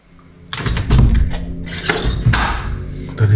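Someone tries a locked door inside a house, rattling and pushing it. A series of close, loud thuds and clunks follows as the handle and door are jostled without opening.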